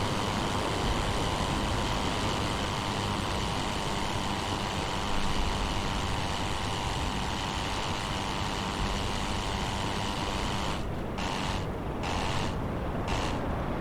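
Rotary engine of a Fokker E.III monoplane in the flight sim Rise of Flight, a steady loud drone running throughout with a few brief dips near the end as the throttle is blipped.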